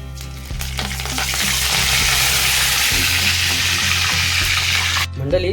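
Curry leaves hit hot oil for mushroom masala and erupt into a loud, dense sizzle that holds steady for several seconds before cutting off, with a faint scrape of stirring underneath.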